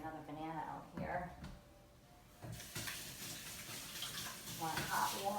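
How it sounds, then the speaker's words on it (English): Tap water runs and splashes steadily as hands are washed, starting after a brief quieter moment, with a person talking over it. "I'm going to wash my hands again"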